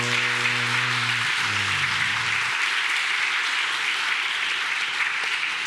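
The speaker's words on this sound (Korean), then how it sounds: "우리 힘차게 환영의 박수 한번 하도록 할까요?" A church congregation at a Sunday service gives welcoming applause. Steady, dense clapping fills the room, with low sustained keyboard tones sounding beneath it for the first couple of seconds before they fade.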